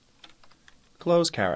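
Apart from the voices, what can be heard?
typing on a computer keyboard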